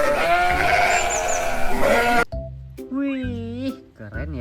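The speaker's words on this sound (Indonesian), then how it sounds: "ternyata domba" A sheep bleats in a wavering, nasal call near and clear, following a stretch of busy background sound.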